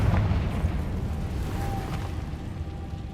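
A Confringo fire spell blast in Hogwarts Legacy bursts with a deep, rumbling boom that rolls and fades over a few seconds, fairly quiet overall with no talk.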